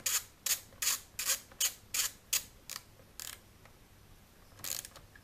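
A ratchet tool snugs screws on a motorcycle's secondary final drive, giving a steady run of about eight sharp, close clicks, then a few fainter ones and a short burst near the end, with no voices.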